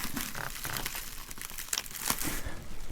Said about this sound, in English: There's a wee label in the back of this one that I forgot to take off.